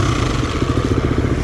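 A Romet Pony moped's small engine sputters in a loud, close, rough and uneven putter, with no voices over it.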